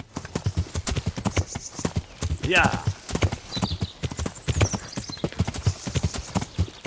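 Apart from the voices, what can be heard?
horse galloping and jumping a creek in Kingdom Come Deliverance video game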